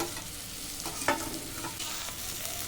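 Ground spices with turmeric, chilli powder, salt and ginger-cumin paste sizzle steadily in a pan for a cabbage and hilsa head curry, with a soft continuous hiss and one sharp stirring scrape near the middle.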